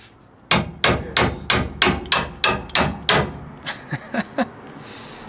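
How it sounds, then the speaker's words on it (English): Eight sharp metallic bangs from a wrench used as a hammer on leaf spring parts of a Tacoma pickup strike in an even rhythm, close and loud, followed by three lighter taps after a short pause. "I'm just using this wrench to hammer it."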